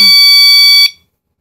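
Entry door alarm set to its alarm mode blares a loud, steady high-pitched electronic tone for just under a second before cutting off abruptly, with no talk over it.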